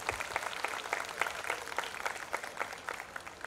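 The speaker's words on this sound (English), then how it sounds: "Let's give a huge round of applause for our faculty members." Audience applause at a convent high school annual day: a crowd claps continuously in a dense, uneven patter, heard from a moderate distance at fairly low level, with no speech.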